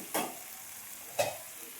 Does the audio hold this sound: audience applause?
no